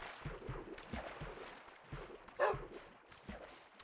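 A dog gives several short, faint barks and yips spread across a few seconds at a distance, with a slightly louder yelp near the middle and a quiet background.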